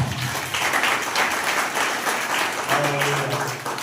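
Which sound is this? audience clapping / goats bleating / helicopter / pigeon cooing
audience clapping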